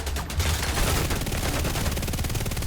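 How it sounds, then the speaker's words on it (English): Sustained automatic gunfire in the video game The Division 2 rattles on without a break. Rapid shots blur into a loud, dense barrage with no pauses. "Taking fire!"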